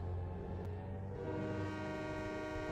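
Santa Fe F7 diesel locomotive in the game Trainz Simulator 2, a steady loud engine rumble with rail noise and a sustained horn blast throughout, no talk.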